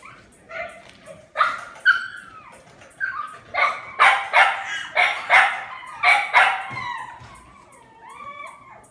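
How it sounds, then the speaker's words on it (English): Several puppies bark and yip in quick bursts, high-pitched and close, with a few whimpers between the barks. "You won't have to hear all the all the loud puppies."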